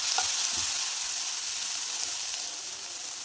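Ivy gourd and potato pieces with turmeric and spice powders are stirred in a hot pan, producing a continuous close sizzle with light scraping and a few soft knocks of the spoon.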